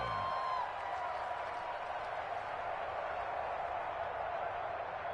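A football stadium crowd in an NFL game between the Bengals and 49ers roars steadily ahead of a big third down, a broad, distant wash of cheering that holds at an even level throughout, with a brief whistle-like tone at the start.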